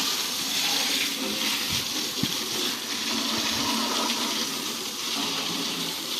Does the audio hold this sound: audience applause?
no